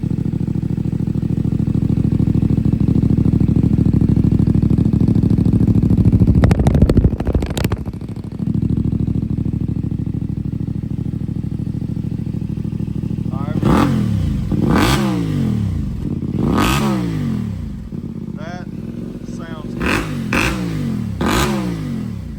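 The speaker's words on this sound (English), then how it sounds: "What you think about the sound of the Yoshimura RS12?" A CFMOTO IBEX 450 adventure motorcycle fitted with a Yoshimura RS12 exhaust idles loud and close with a steady throb, then blips through a series of sharp revs that rise and fall, with someone talking over the engine.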